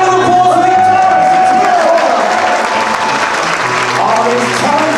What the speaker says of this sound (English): Big round of applause for guitars.